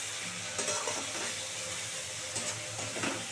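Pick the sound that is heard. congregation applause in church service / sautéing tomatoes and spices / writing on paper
sautéing tomatoes and spices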